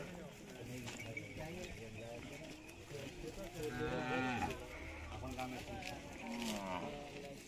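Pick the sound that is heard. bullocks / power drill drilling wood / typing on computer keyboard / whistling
bullocks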